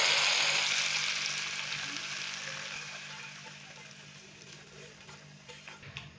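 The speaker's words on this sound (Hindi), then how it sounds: "तो अभी हम दाल को तड़का लगाएंगे।" Hot tadka poured into moong masoor dal, a loud burst of sizzling and hissing that fades steadily over several seconds into faint bubbling and a few soft clinks.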